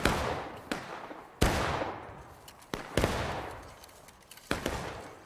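Musket volleys in the Civil War game War of Rights: several sharp, loud gunshot cracks, some single and some in quick pairs, each with a rolling tail, spread over about five seconds.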